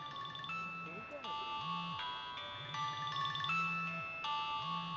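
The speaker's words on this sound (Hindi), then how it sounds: "मेरे ख्याल में आपके टेलीफोन की बेल बज रही है।" A telephone bell rings repeatedly in a rhythmic, warbling electronic tone pattern, fairly close, running under steady background conversation for the whole stretch.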